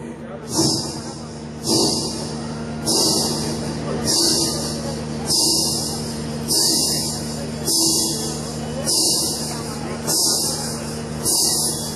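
Ankle bells jingle in a steady rhythm of bright shimmering bursts, like footsteps descending stairs, each step ringing clearly over a low background hum.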